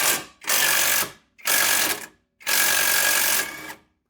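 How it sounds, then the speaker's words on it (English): Impact wrench with a T35 Torx bit loosening a control arm bolt on a Jeep during a 3.5-inch lift kit install, three loud close rattling bursts separated by short pauses. "I'll just hit it with the impact."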